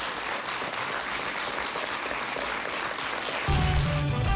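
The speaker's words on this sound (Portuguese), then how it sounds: "Um grande aplauso." Broad, steady applause from a studio audience on a Portuguese-language call-in show, holding at an even level and swelling slightly louder near the end as a low hum enters.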